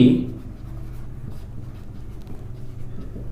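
Chalk or a marker scratches faintly on a board as a maths definition is written in a classroom, soft continuous strokes with low room rumble and no clear talk.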